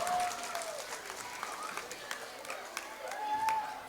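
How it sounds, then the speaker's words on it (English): An audience at a school drama performance applauds the performers, with steady clapping running throughout and voices and other sounds mixed in. "A huge round of applause for them"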